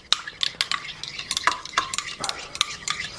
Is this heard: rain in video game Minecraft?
no